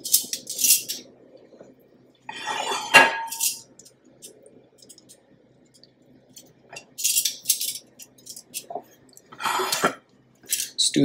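Spicy honey garlic chicken wings go onto plates with intermittent clinks and scrapes of dishes and cutlery, short bright bursts separated by quiet gaps, close and moderately loud.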